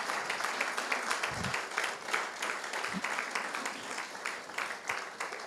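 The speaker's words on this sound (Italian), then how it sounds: "un grosso eh, applauso ai nostri medici che sono stati bravissimi" Audience applause for the doctors at a hospital cardiology event in Turin, a steady, fairly faint wash of many hands clapping from some distance, sustained throughout without talk over it.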